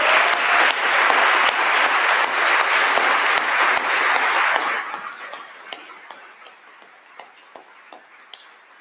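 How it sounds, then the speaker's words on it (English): A graduation ceremony audience gives the graduates a full round of applause, loud dense clapping for about five seconds that thins out into a few scattered late claps. "I think we'd all like to give you an extra round of applause"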